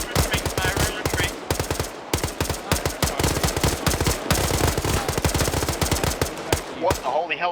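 Sustained automatic gunfire in the video game Arma 3, dense rapid bursts of shots firing almost continuously at close range, with voices talking over the gunfire.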